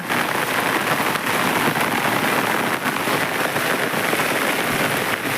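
Heavy rain pours down in a dense, loud, unbroken hiss, close and steady with no voices.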